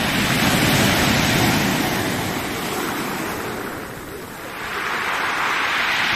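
Large storm waves crash and surge against the Black Sea shore at Adler, a loud continuous roar of surf and churning water with no voices.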